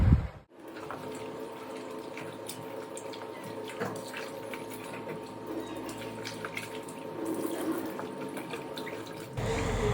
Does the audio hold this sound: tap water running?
yes